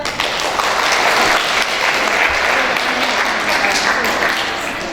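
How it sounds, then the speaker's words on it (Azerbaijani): An audience at a closing ceremony breaks into loud, sustained applause with a few voices mixed into the crowd noise, keeping up a full, steady wash of clapping throughout. "Gəlin alqışlayaq."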